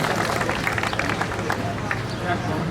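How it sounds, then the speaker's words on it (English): Crowd applauding a Vietnam veteran at an outdoor Memorial Day ceremony, a steady patter of clapping mixed with murmuring voices and crowd noise. "One more round of applause for Jim."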